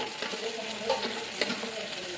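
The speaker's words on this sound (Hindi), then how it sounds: "और अब हम इसको अच्छे से करेंगे फ्राई प्यूरी को।" Puree of six tomatoes frying and being stirred in a pan, a steady soft sizzle with faint scraping of the spoon, close and fairly quiet, no talking.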